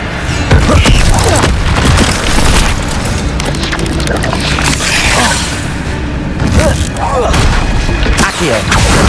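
Incendio fire spell in Hogwarts Legacy, with loud booming bursts and crackling blasts of flame over continuous combat rumble, repeated several times.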